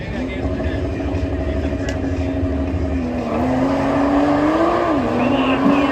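Porsche accelerating hard at a spectator drag race, a loud sustained engine drone with a rising pitch sweep near the end, voices mixed into the crowd noise.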